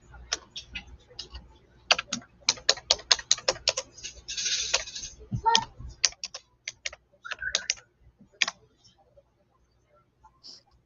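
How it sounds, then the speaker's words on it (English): Rapid clacky keystrokes on a mechanical keyboard in uneven bursts, close and crisp, trailing off into near silence at the end. "mechanical keyboards make noise like typewriters because of the way they're made"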